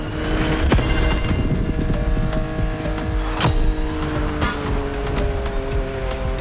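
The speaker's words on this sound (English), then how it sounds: "Drifting is the best way to take sharp turns without losing speed." Car drifting through sharp turns on a winding Hawaiian mountain road in the video game The Crew Motorfest, a steady loud engine roar with tire squeal and a few sharp transient hits, no talk.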